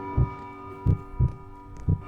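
A heartbeat sound effect thumps in a Roblox horror video game, four deep, evenly spaced beats with a steady low hum between them and no voices.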